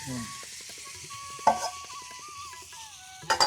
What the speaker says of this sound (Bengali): পেঁয়াজ, মরিচ এগুলো একটু ভেজে নেওয়া হচ্ছে।